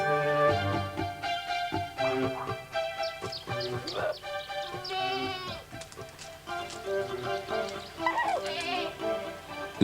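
Goats on La Palma in the Canary Islands bleating repeatedly, several animals calling over one another close by, with a voice talking underneath.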